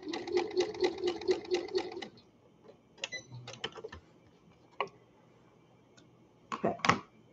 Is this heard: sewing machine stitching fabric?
yes